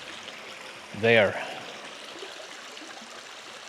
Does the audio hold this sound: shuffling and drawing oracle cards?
no